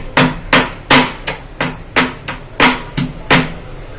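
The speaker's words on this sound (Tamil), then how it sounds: "இந்த பூண்டையும் நல்லா இடிச்சாச்சுப்பா." Garlic being pounded by hand for mutton chops in a home kitchen: about ten sharp, evenly paced thuds close up, each with a short ringing tail, and no talking.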